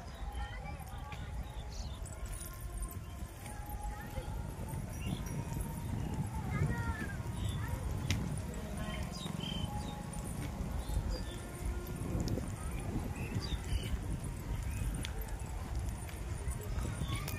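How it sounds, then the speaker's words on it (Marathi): Horses at the Malegaon horse market beside the Khandoba temple fair clip-clop and shuffle at a moderate distance amid a busy, crowded outdoor din, with people talking throughout. "इथं खूप सारे घोड्यांचा बाजार भरतो"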